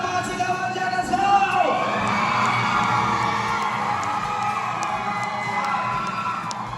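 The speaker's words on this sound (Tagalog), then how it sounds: "Sa munang malakas na palakpakan sigawan dyan" Crowd at a provincial beauty pageant coronation night cheers, whoops and applauds, a loud burst of shouting that settles into steady clapping and cheering, with an announcer's voice briefly heard at the start.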